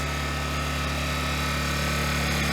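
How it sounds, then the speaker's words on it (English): A Harbor Freight Predator 1400 inverter generator runs steadily close by, giving a quiet, constant mechanical hum with no breaks. "they say this generator is quiet, and it sure is"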